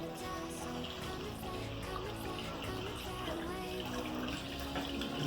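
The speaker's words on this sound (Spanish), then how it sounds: "Abrimos el grifo" Tap water runs steadily into a sink while hands are rinsed during a handwashing demonstration, a continuous close hiss and splash with no spoken words.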